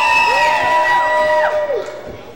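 Wrestling crowd at a Monster Pro Wrestling event cheering after an opening match, a short burst of shouts and whoops that fades toward the end, with voices riding over the noise.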